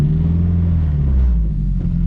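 Turbocharged Honda S2000 on the move after a differential swap, a loud steady drivetrain drone with a low rumbling hum and a faint whine holding throughout, no voices.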